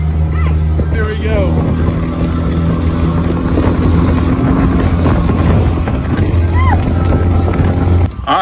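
Steady east wind buffets a boat at sea off Cheeca Rocks in the Florida Keys, a constant loud rush with a low engine drone underneath, and voices talk briefly over it.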